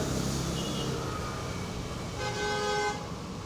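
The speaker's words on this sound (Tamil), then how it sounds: "நிஜமாலே ஹாரன் சூப்பராக இருக்குது" A bus horn in a bus simulator game sounds in sustained tones over a steady engine drone, with a second longer, brighter honk near the end.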